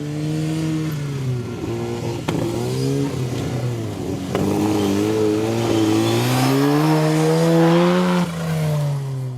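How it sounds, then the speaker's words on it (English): An off-road 4x4 races through a dirt course at the Maxxis 4XTR event at Parys. The engine revs loud and close, climbing and dropping in pitch as it accelerates, with faint clatter and no talk. "Putting some dirt on those brand new tyres as he speeds through the course."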